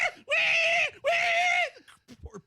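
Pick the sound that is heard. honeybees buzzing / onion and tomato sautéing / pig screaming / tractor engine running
pig screaming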